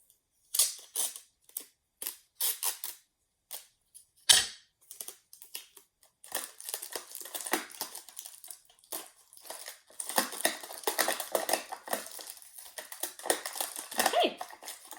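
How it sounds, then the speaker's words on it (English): Tape is pulled and pressed down while building a pinhole camera, making close crackling rips and a series of sharp clicks and crinkles that grow into a denser, continuous rustle. "I'm just going to tape this down."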